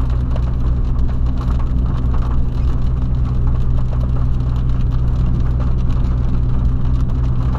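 Heavy rain drums steadily on a Volkswagen Polo being driven through a downpour, a dense, constant wash of patter over a low, continuous road and engine rumble, loud and unbroken throughout.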